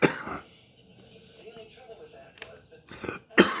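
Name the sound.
coughing fit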